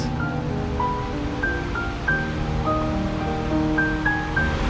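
Waterfall at Idaho Falls, a steady broadband rush of falling water close by, continuous and fairly loud, with a few faint bird chirps above the roar.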